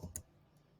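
A single faint, sharp computer mouse click sounds near the start, followed by quiet room tone.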